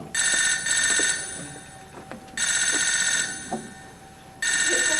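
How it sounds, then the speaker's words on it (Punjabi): A telephone rings in three bright electronic bursts separated by pauses, loud and close, over a quiet room. "ਗਗਨ ਦਾ ਫੋਨ ਹੈ।"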